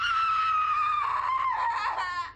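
A woman's long, high scream for a horror film, The Texas Chainsaw Massacre: The Beginning, held steady and then wavering and breaking up near the end, loud and close with no other sound.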